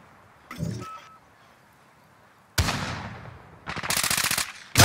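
Pistol gunfire in a shooter video game: a sharp single shot, then after a pause a loud blast with decay, followed by a rapid rattling burst of shots, close and loud.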